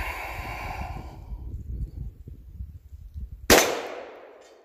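A single booming shot from a Smith and Wesson 500 Magnum revolver firing a 700 grain bullet outdoors, a sharp loud crack that trails off in a long decay after a stretch of low rumbling background.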